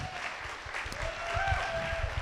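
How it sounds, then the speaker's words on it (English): Audience at an entrepreneur and investor event applauding the panelists, moderate clapping from a crowd under a low rumble, with a faint held tone and some voices. "round of applause"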